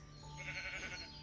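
A bull from a TerraFirmaCraft Minecraft mod game gives a single short, faint bleating moo lasting about a second, heard alone.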